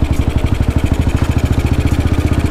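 A 1952 BMW R25 classic single-cylinder motorcycle engine while riding, a loud close pulsing thump with a steady, even firing rhythm throughout.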